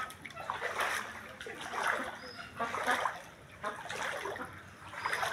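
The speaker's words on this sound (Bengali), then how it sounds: "আমি আসছি অনেক পানি ডিঙ্গাইয়া।" Someone wading through knee-deep floodwater around a flooded rural home, with rhythmic sloshing splashes roughly once a second, close and fairly soft, while a voice talks faintly.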